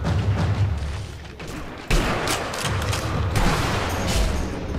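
Gunfire in the video game Sniper Elite V2, a continuous rattling barrage of shots and booms with a sharp surge about two seconds in, loud and dense throughout with no voices.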